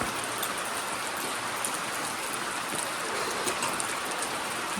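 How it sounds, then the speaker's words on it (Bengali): Morning rain falling in the hills of Kalimpong, a dense, even hiss of drops on surfaces that stays steady and fairly close throughout, with no voices. "যেহেতু এখানে বৃষ্টি হচ্ছে, তো বৃষ্টিটা উপভোগ করুন"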